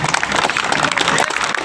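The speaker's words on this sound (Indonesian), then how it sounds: "Tepuk tangan buat kita." Audience applause at a morning gathering in Indonesia, a dense, steady wash of many hands clapping close and loud throughout, with voices mixed into the crowd noise.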